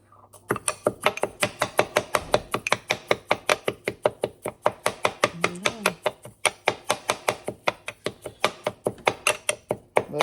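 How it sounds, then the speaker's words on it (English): Dried red peppers being crushed with the back of a thick butter knife, a fast regular run of sharp tapping and crunching strikes, close and loud, continuing without pause. "finish crushing it up a little bit using the back end of a butter knife"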